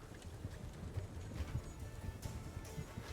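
Horse hooves in The Witcher 3 video game, a continuous fast thudding gallop with low rhythmic hoofbeats throughout, steady and moderately loud, with no whinny clearly standing out.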